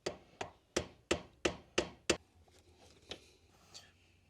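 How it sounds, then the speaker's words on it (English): Flathead screwdriver struck to chisel a plastic ring out of a MK2 Supra rally car, giving seven sharp, evenly spaced close taps followed by a few fainter, scattered knocks. "We'll get this thing chiseled out of here."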